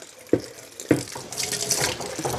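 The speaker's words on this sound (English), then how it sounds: "let me just rinse my hand here" A hand is rinsed under a running tap at a sink, with two sharp splashes followed by a steady stream of water, no talking.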